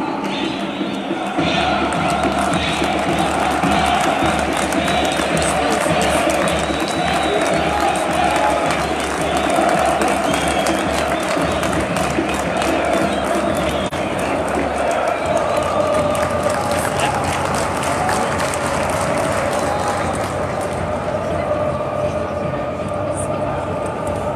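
Marrakech football fans roar in the stadium stands after a second goal against Kénitra, a dense, continuous crowd din with cheering and applause and a voice talking over it.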